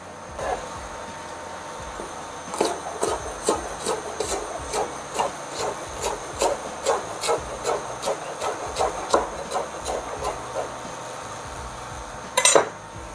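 Knife chopping spring onions on a cutting board in a kitchen, a steady run of crisp, evenly spaced taps close by, ending with a quick cluster of cuts.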